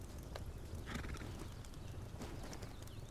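Horses in the survival game Rust, with faint hoof clip-clops and a short whinny over a steady low background hum.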